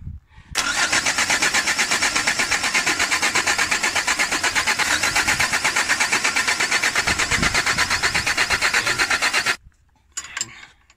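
Mitsubishi 4D33 diesel engine cranking continuously for about nine seconds with a loud, steady, rhythmic starter churn, then stopping, followed by brief faint clatter.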